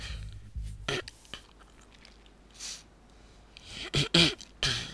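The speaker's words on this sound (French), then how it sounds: "j'en ai marre de tousser." Several harsh coughs close up, a couple early on and a cluster near the end, separated by quiet stretches.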